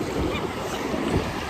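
Ocean surf washes in at Daytona Beach Shores, a broad, steady rush of breaking waves mixed with wind buffeting the microphone, loud and close with no talk.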